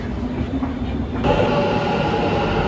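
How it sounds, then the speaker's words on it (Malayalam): A Bangalore metro train rumbles loudly nearby, its steady roar and wheel noise swelling midway as it runs along the track. "ഇപ്പോൾ ഞങ്ങൾ മെട്രോ എടുത്ത് തിരിച്ചു പോകാൻ വേണ്ടിയിട്ട്"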